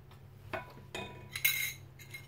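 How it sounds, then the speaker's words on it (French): Clear agar agar liquid is stirred with colouring for a layered dessert, giving a few light clinks of a utensil against a glass or bowl in a quiet room. "Maintenant, je vais commencer à mélanger le liquide transparent avec la couleur."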